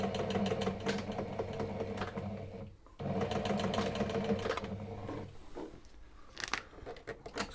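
A sewing machine runs close and steady with a rapid mechanical clatter, stopping briefly then starting again before slowing into scattered clicks and knocks toward the end.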